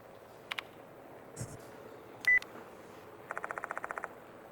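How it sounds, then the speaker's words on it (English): A phone buzzes with vibration in the horror adventure game Death Mark 2 (Spirit Hunter): a few short electronic blips, then a rapid, even train of about a dozen buzzing pulses, moderately loud over a quiet ambient room tone with no speech. "The sound of a phone vibrating echoes in the room."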